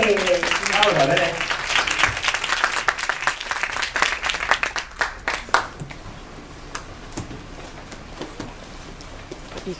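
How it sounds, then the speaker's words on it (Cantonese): An audience claps for a speaker at a Hong Kong public speaking contest final. The applause is dense and loud at first, then thins into scattered claps that fade out near the end. "俾掌聲"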